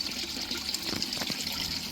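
Water trickles and splashes steadily from a garden fish pond waterfall, soft and continuous with small bubbling spikes, heard alone at close range.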